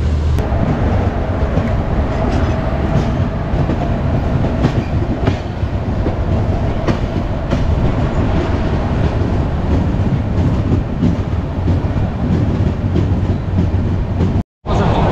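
The Rupasi Bangla Express passenger train runs steadily on the rails with a loud, continuous rumble and faint clickety-clack from inside the carriage. The sound stays constant throughout, broken only by one brief dropout near the end.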